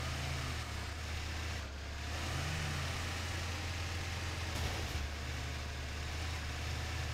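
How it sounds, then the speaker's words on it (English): Low, steady engine drone of a vehicle in the off-road driving game Expeditions, a constant rumble under broadband hiss with no talking. "Well, the engine sounds are not good."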